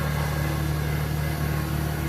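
Steady droning engine of a 706 tractor running while working, heard close to the exhaust as a loud, even low hum with constant vibration and no breaks.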